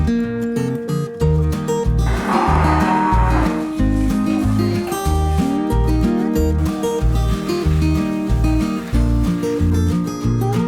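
Cattle in a cowshed on a dairy farm moo loudly and close by, with repeated lowing calls over a steady, rhythmic background that runs throughout.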